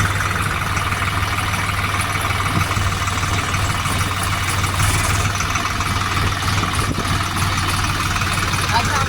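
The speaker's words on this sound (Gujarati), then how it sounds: "અત્યારમાં આગુભાઈ ટ્રેક્ટર ચલાવી રહ્યા છે" A farm tractor's engine runs steadily and close by as a first-time driver takes the wheel, a constant low rumble with voices talking over it.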